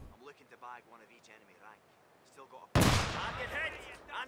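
A British sniper rifle shot in a video game duel: one sharp, loud crack arrives after several seconds of talking, followed by a ringing decay.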